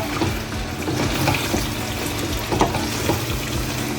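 Pork roast frying in a pan with masala, a steady broadband sizzle and crackle running the whole time, close and moderately loud, with occasional stirring clinks and no talking.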